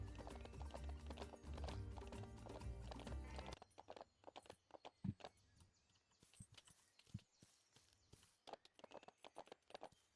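A horse canters beneath bridges in The Ranch of Rivershine, game hooves clip-clopping in quick uneven beats, first loud and dense under a busy layer of sound, then sparser and softer with occasional whinnies.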